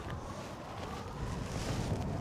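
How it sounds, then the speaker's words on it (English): Wind blows hard across the microphone on a Scottish road trip, a steady low rumbling buffet that keeps going the whole time. "it's very windy"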